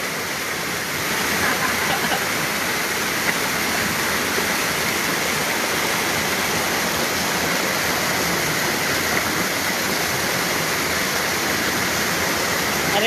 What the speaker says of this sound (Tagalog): Ilapos man ang tubig.